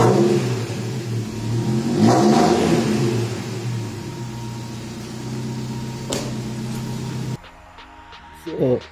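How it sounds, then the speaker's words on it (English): A Mercedes 190E fitted with an M111 engine gives a quick rev, the engine note rising and then falling back to idle, with an abrupt cut near the end. "Quick rev."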